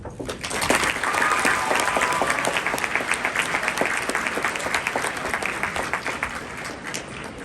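Sustained applause from a high school audience at a candidate speech event, dense clapping that stays loud and steady throughout with no talk over it.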